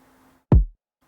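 A single dry, unsaturated kick drum hit from an FL Studio production: one short, punchy, deep thump that decays quickly, alone and up close after faint background sound.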